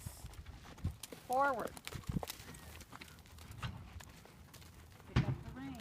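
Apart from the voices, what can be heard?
horse hooves stepping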